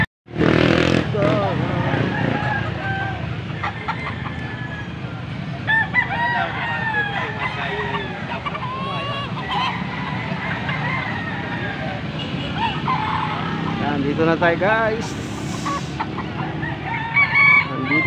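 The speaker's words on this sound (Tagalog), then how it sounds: "Nandito naman tayo sa bintahan ng mga manok." Roosters crow and chickens cluck throughout a busy Sunday chicken market in Angeles, Pampanga, with a motorcycle passing and someone talking close by over the birds.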